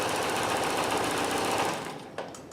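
Necchi Supernova sewing machine stitching a buttonhole, a fast, steady mechanical needle rattle, loud and close, that slows and stops near the end with a small click.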